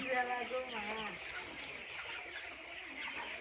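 Broiler chickens raised at home cluck and call close by, with a rising clucking phrase at the start followed by busy flock noise.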